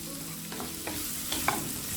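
Capsicum fries in a pan with a steady soft sizzle, and a few light scrapes come from stirring now and then.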